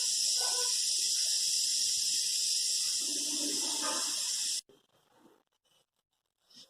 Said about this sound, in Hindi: कुकर की सीटी बज गई।